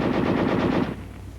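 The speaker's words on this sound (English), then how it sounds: "Weapons giving automatic fire will fire continuously as long as pressure is applied to the trigger or until the ammunition is exhausted." An automatic weapon fires a rapid continuous burst of shots, loud and close, rattling for under a second before cutting off into a ringing tail.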